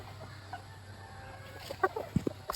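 A hen gives a few short, soft clucks near the end, after a quiet stretch of low background hum.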